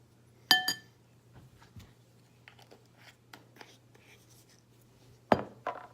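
A small spoon clinks against a glass bowl while stirring a spice mix of garlic powder and smoked paprika, with two sharp taps near the start, faint scraping in between, and another pair of clinks near the end.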